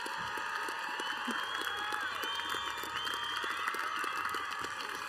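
A graduation ceremony crowd at Cabrillo College gives sustained applause, dense steady clapping with scattered cheers and whoops from a large audience, continuous and even in level.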